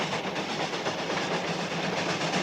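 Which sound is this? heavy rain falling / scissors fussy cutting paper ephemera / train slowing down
train slowing down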